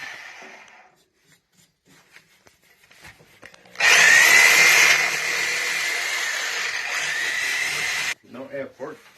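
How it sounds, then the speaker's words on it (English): Copper pipe for a radiator bypass on a radiant heating job is cut with a power tool, giving a loud steady grinding whine for about four seconds, with brief talk before and after. "Alright, JD's gonna cut that out."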